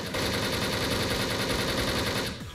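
Dual guns fire a fast automatic burst in the video game Wolfteam, a dense loud rattle of rapid shots lasting about two seconds before cutting off abruptly.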